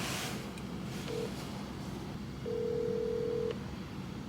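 A telephone line tone sounds on a call, a short beep followed by a longer steady tone over faint room hiss, with no speech.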